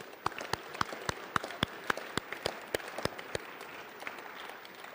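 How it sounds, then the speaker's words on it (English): Sparse clapping at an awards ceremony, with a dozen or so loud, distinct claps standing out over a softer background of scattered hands from the audience. "So one big round of applause for all of our sponsors that make that possible."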